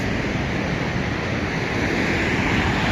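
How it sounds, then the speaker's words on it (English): Large, rough ocean waves surge at Santa Monica Pier as a steady, full roar of surf blends with wind noise. The sound is moderately loud and continuous, and no one speaks. "Look at big ass waves."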